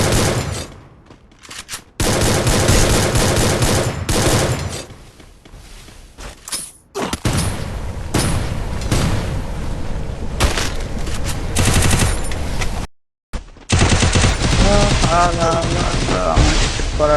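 Gunfire in the battle royale game Free Fire: loud, dense automatic bursts and shots with short gaps and one abrupt dropout, with a player talking over the action.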